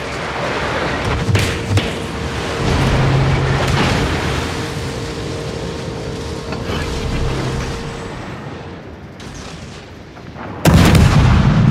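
Heavy naval gun salvos from World of Warships battleships rumble as repeated deep booms over a constant loud battle din, with a sharp, very loud blast near the end.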